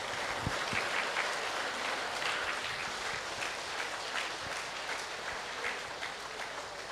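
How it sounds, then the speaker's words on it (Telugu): Crowd at an outdoor vegetarian rally claps together in a steady, moderately distant patter, with a few sharper near claps and low background bustle, no speech. "క్లాప్స్ కొట్టు"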